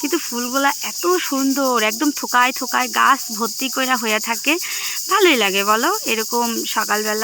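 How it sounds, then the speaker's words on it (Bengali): Loud, steady shrill chirring of crickets fills the background throughout, while a person talks continuously over it. "ঝিঝি পোকা ডাইকা তো একদম কান ঝালাপালা করে ফালাইতেছে।"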